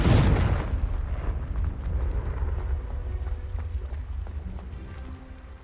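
Confringo blasting curse explosion in Hogwarts Legacy, a sharp loud burst at the start that rolls into a rumbling, crackling decay.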